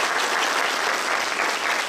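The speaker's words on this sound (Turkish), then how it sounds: "Alkış" An audience at a World Disability Day event in Turkey gives a brief burst of dense, continuous applause, loud and even throughout.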